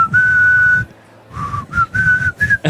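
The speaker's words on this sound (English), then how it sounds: "It has the whistling." Melodic whistling of a song, loud and close, in several phrases with a brief pause between them and no talking over it.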